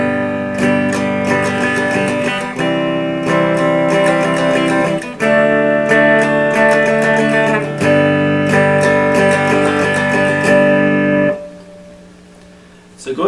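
Steady strummed guitar rhythm with repeated chord strokes mixing longer hits and quick bursts, loud and close, ending in a brief ringing fade.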